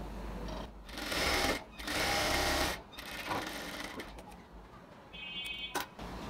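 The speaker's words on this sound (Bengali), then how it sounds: "ঠিক সেম ভাবে অপর পাশটাও স্টিচ করে নিচ্ছি।" A sewing machine stitches the seam of a ladies' pant in short, close, loud whirring runs, with brief pauses between the bursts and a faint click near the end.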